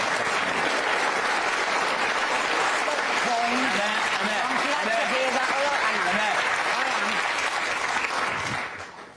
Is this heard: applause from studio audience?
yes